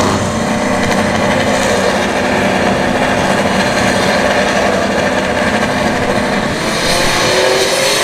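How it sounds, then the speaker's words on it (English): A turbocharged third-generation Chevrolet Camaro makes a drag racing pass at a motorsports park, a loud, dense engine roar sustained throughout with a faint rising whine near the end and no voices. "Clean pass there. The turbo 3rd gen Camaro."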